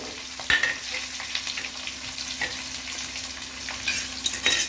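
Onion pieces and curry leaves frying in oil for a bitter gourd curry, a continuous close sizzle broken by occasional clacks and scrapes of stirring, with no voices.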